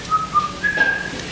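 A person whistles a short, bright tune in a few sustained notes, with a brief pause between phrases, close and clear over quiet background hiss.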